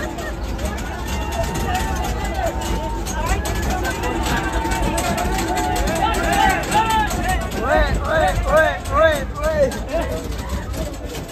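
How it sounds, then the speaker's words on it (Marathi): Dense crowd chatter fills a packed Mumbai local train, a steady hubbub of many overlapping voices with train rumble underneath and a few louder nearby voices rising toward the end. "गर्दी बघा ट्रेन मध्ये"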